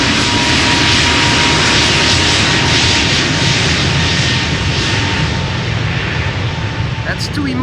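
A jet airliner departs Amsterdam Schiphol bound for Reykjavik, its engines holding a loud, steady, close roar for the whole stretch, broadband and unbroken.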